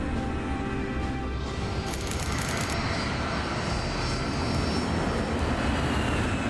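A BA jet airliner departing London for Istanbul drones steadily overhead, a loud continuous broadband engine roar that holds throughout with no speech.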